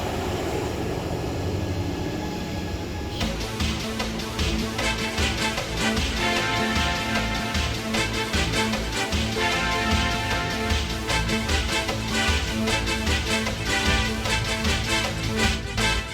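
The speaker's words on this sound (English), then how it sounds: "This is what the train looks like leaving Fort Lauderdale Station." A train's engine and wheels build into a loud, steady droning rumble with rhythmic clatter as it pulls away from Fort Lauderdale Station, continuous throughout.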